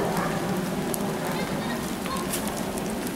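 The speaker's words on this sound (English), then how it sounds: "It's still raining." Rain falling steadily on surfaces outdoors at Punta Engano, a continuous close patter with scattered sharper drops, while a person talks faintly over it.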